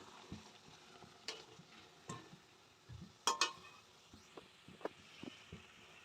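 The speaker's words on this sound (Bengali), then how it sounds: "এইভাবে প্রত্যেকটাকে আমি ভেজে নেব।" Pea-stuffed kachori frying in hot oil in a wok, a soft steady sizzle with scattered ticks and clinks of a utensil stirring, fairly quiet and close with no talking.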